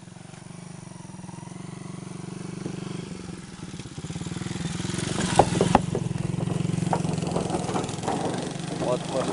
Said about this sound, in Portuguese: As motos estão passando pelo meio porque madeira solta.